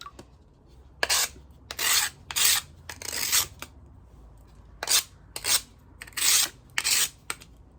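Stained glass pieces cut for mosaic bee wings are rubbed along their edges to take off lumps, giving eight or so close, gritty rasping strokes in short uneven bursts with quiet gaps between.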